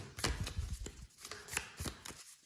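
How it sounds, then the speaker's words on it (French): An oracle card deck is shuffled by hand, with soft quick riffling and shuffling bursts in uneven rhythm, close and quiet, without speech. "C'est un jeu qui, au niveau de la battue, eh bien, écoutez, se mélange très bien."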